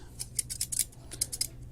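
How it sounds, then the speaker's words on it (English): A pair of metal scissors, marked as made in the USA and pulled from a technician's tool case, snips and clacks in a quick series of crisp metallic cuts that come close up and fairly quiet, with nobody speaking. "So we got some scissors."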